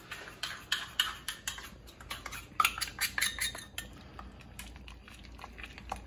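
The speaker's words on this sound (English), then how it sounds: "Add it and stir it." A spoon stirs a pot of shrimp and corn chowder in quick, rapid scrapes and clinks against the pot, close and fairly quiet, with no talk.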